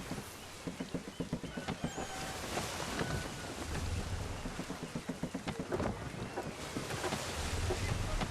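A sailing ship surging through open water in Assassin's Creed III, a steady rush of wind and waves with rhythmic hull thumps and creaking throughout.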